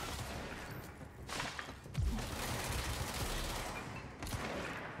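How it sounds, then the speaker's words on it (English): Gunfire in Assassin's Creed Unity, a dense crackling volley of shots with a sharper burst about two seconds in, heard fairly faintly with no talk over it. "Who's shooting at me?"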